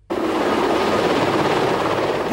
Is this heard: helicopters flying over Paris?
yes